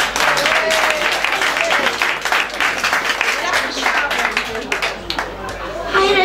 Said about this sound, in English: Applause for Wendy.